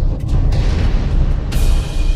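A single pistol shot fired in a movie duel, a heavy low boom rolling under continuous rumbling score with brief bright bursts.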